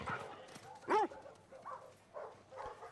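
A dog barks once, moderately loud, in The Last of Us video game, followed by softer yips and whimpers and faint pattering.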